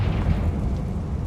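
A Confringo fire spell exploding inside a mine in Hogwarts Legacy, a loud, rumbling low blast that keeps churning for over a second, heard without speech.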